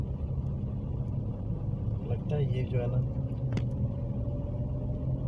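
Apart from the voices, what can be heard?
car engine straining uphill, sounding like a truck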